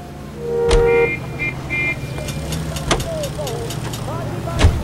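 A car driven in the video game L.A. Noire, its engine running steadily with occasional horn-like tones and sharp bangs, under distant radio-style voices.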